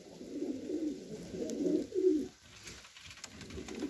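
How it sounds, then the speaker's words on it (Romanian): Pigeons coo in low, throaty rolling bursts that rise and pause in an uneven rhythm, fairly close and alone against a faint background hiss. "mie îmi plac porumbeii roșii"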